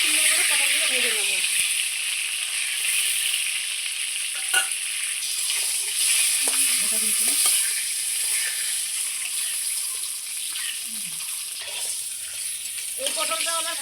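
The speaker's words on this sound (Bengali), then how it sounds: "হিটে খুব সুন্দর করে পটলগুলো ভেজে নেব।" Pointed gourd pieces fry in a pan over low heat, a steady close sizzle with scrapes of stirring running throughout, under occasional faint voice.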